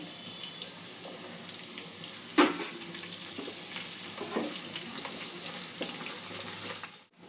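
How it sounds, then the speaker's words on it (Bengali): Carrot pieces stirred in hot oil in a pan, giving a steady close sizzle with occasional spatula scrapes and one sharp knock. "গাজরটা হালকা করে একটু তেলে নাড়াচাড়া করে দেব"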